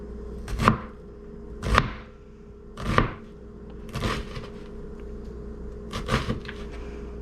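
A knife cuts through an onion on a board in five distinct chopping strokes at roughly one-second intervals, close and clear with no talking.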